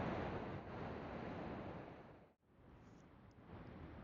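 Heavy river water rushing over Shoshone Falls at high flow, a steady broadband roar that stays loud and continuous, with a brief dip partway through and no voices.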